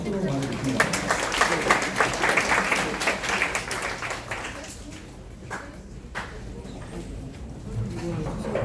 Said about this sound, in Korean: 네, 박수로 맞아주십니다